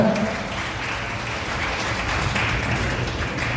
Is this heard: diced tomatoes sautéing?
no